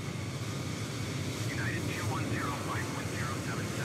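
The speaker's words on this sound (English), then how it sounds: "Sister ships taking off simultaneously." Simulated jet airliners taking off at Miami International Airport in Microsoft Flight Simulator 2020 give a steady roaring engine hiss, continuous and moderately loud, with a voice talking over it.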